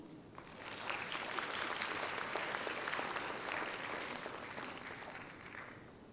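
A conference audience applauds to welcome a speaker on stage, a steady wash of many hands clapping heard at a distance, swelling in quickly and holding fairly even before easing slightly.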